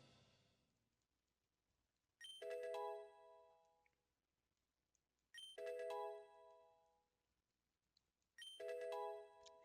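Heal Bell chime from Pokemon XD: Gale of Darkness, three separate bright bell-like chime bursts, each ringing about a second with layered tones and a short decay, spaced evenly over a quiet game background with no talking.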